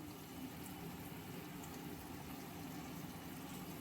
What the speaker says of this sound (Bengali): সুন্দর একদম চিলি চিকেনটা ফুটছে